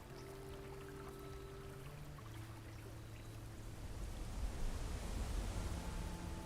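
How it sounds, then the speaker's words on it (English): A loud waterfall in the video game Blue Prince roars as steady broadband rushing water that swells louder toward the end, with faint tonal game music underneath. "The waterfall is very loud."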